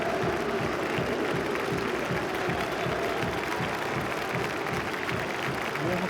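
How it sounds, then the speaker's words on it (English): Nottingham Forest supporters in a stadium applaud a substitution during a play-off semi-final against Blackpool. The crowd sound is a steady, distant wash of clapping and murmur that never breaks. "Warm applause from the Forest supporters."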